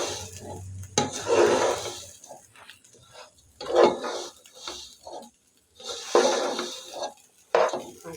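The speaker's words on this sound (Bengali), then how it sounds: "এই জন্য চাল আমি ভেজে নিচ্ছি বিরিয়ানির জন্য।" Rice fried in a pan before making biryani: bursts of scraping and stirring against the pan, with quiet gaps between them, close and fairly loud.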